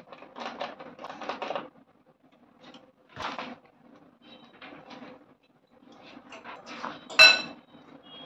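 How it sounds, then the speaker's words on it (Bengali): Cornflour being stirred into water in a bowl with a spoon, giving repeated light tapping and clinking in short bursts with pauses, ending in a sharper clink, close and fairly quiet. "এদিকে গুলে রাখবো কর্নফ্লাওয়ার"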